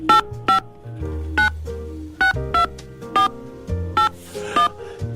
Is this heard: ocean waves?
no